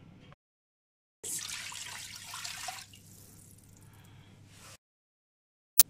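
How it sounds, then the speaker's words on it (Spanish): Broth is poured into a cooking pot in a steady splashing stream for about three seconds, fading to a softer trickle before stopping, with quiet room sound around it. "Voy a poner el caldo."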